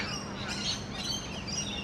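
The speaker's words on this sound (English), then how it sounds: "there are a lot of parrots, if you can hear them somewhere in this tree" Parrots call from somewhere in a city-park tree among skyscrapers in Sydney, a scatter of faint, high chirps and squawks over steady background hum and traffic noise.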